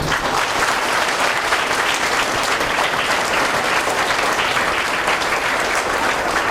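An audience gives loud, continuous applause, a thick, even wash of many hands clapping at once that holds at the same level from start to finish with no speech on top.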